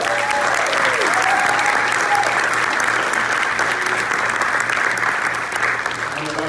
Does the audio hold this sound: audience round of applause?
yes